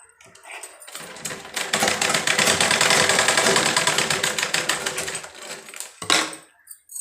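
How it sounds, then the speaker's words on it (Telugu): Sewing machine running a double stitch along fabric, a steady rapid mechanical whirr sustained for several seconds close by, stopping briefly before a short final burst of stitching. "ఇలా తీసుకొని దీని మీద డబుల్ స్టిచ్ చేసుకోండి."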